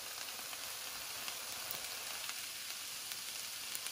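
Chili powder, coriander and turmeric sizzle in hot olive oil with a steady, close crackling hiss that holds level throughout, with no talking.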